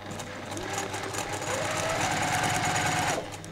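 A sewing machine running a straight stitch through quilt fabric, a steady close mechanical whirr with a rapid rhythmic needle chatter that lasts about three seconds before stopping.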